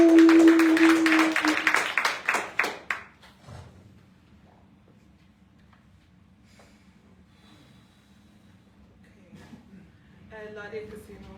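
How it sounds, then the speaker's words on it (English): A live poetry-slam audience claps and cheers loudly for a performer in a brief burst that fades out within about three seconds, leaving a quiet room with faint murmurs and a few scattered sounds. "A round of applause for Laja Kasimu."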